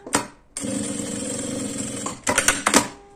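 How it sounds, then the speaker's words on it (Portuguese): Sewing machine stitching around the edge of a card wallet's fabric lining: a short burst, then a steady, close mechanical whir of about one and a half seconds, followed by a few quick uneven bursts. "agora pelo lado do forrinho, eu vou fazer uma costurinha em toda a volta aqui pra segurar o restante do meu tecido"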